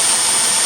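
A Jeep engine with a lifter that had been sticking, now running smoother after an oil additive, gives a steady, loud, even roar with no breaks and no talking.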